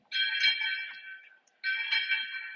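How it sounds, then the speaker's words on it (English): Church bells ring at four o'clock in Seville, Spain, two long resonant strikes with ringing decay, clear and fairly close, with no talk. "I guess that's why the bells are ringing."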